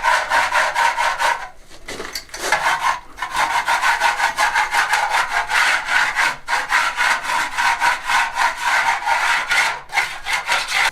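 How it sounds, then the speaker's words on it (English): Plaster lumps left from a ceiling job are scraped off an old wall, a close, continuous rasping of quick back-and-forth strokes with a couple of brief pauses. "I'm going to scrape a few of these lumps off that I dropped on when I did the ceiling"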